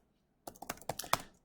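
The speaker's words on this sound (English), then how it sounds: "I'm just going to type this right here" Computer keyboard keys struck in a short, quick burst of about eight or nine close, crisp clicks after a moment of silence.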